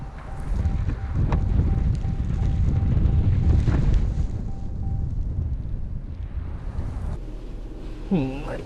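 Blizzard wind blowing outdoors in snow, a loud continuous roaring buffet against the microphone that eases slightly midway, with a faint whirring motor rising near the end.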